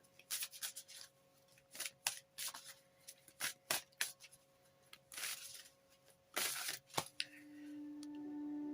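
Oracle cards being shuffled and drawn from a deck for a daily reading, a run of soft papery riffles and flicks with short pauses between them, close and quiet, with no speech.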